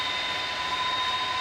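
Boeing 747-200F jet engines spooling in the X-Plane 12 flight simulator, a continuous loud turbine roar with a steady high whine held throughout, no talking.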